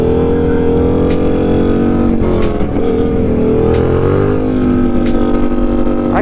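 A car engine held at high, steady revs during a wheelie on a windy day, droning loud and close with slight pitch swells and rapid ticking pulses layered over the roar.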